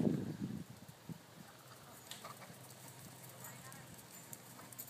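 Hooves of a horse in a rising trot under a rider during a schooling session, soft rhythmic clip-clop beats with a loud voice at the start and faint ambient noise throughout.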